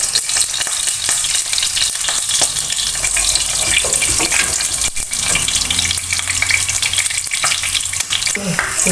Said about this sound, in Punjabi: ਤੇਲ ਹੁਣ ਗਰਮ ਪਾਵਾਂਗੇ ਜੀਰਾ